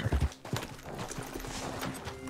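Horse hooves clip-clop in Red Dead Redemption 2, several heavy close thuds at the start, then a quicker, lighter trotting rhythm continuing steadily.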